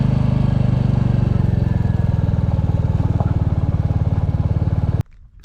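A Royal Enfield Classic 350 motorcycle engine idles loudly up close with a steady, pulsing rumble, then stops abruptly near the end.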